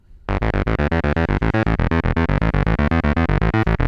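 Buzzy, distorted notes from a Korg Monologue analog synthesizer step through a fast repeating sequence, each note short and evenly spaced, loud and close with no voices.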